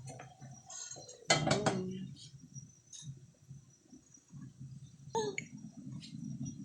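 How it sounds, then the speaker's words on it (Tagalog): A metal lid is set onto a cooking pot of eggplant paksiw with a bright clattering clink, followed later by a second softer metallic knock, faint kitchen background between. "Ngayon, tatakpan ko ulit para maluto-luto pa ang talong."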